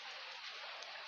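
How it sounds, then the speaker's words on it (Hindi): Rain falls outdoors, heard as a brief, soft, steady hiss of drops with no talking. "एक तो मैं एकदम बाहर ही बैठा हुआ हूँ तो वो आवाज़ बारिश की आ रही होगी।"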